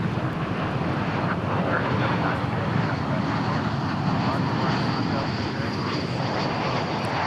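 A steady, fairly loud airliner engine roar continues throughout as a plane arrives at Dallas Fort Worth airport from LAX, with a faint voice under the rumble.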